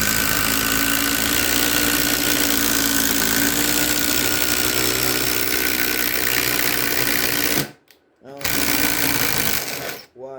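A Ridgid sub-compact impact driver bores with a spider auger bit in a loud, steady whir for about eight seconds, stops briefly, then revs again while a voice talks faintly.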